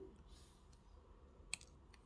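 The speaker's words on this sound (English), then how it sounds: "So I'm just going to cut that bit of weaving wire from the beginning." Small cutters snip thin weaving wire while making wire-wrapped earrings: a quiet room, then one sharp click and a louder, crisp snap at the end, both close.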